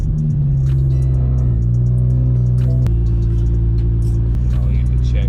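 A single-turbo BMW 335i with an N54 engine on solid motor mounts rumbles loudly at low revs, with a steady deep drone and slight shifts in pitch.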